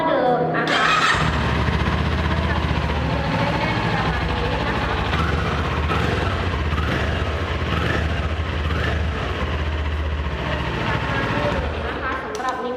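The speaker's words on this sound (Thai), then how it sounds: "เดี๋ยวแปมให้ฟังเสียงเครื่องยนต์กันหน่อยเนาะ" A Kawasaki Ninja 400 sport motorcycle engine fires up with a sputter and settles into a loud, throbbing idle close by, running steadily throughout.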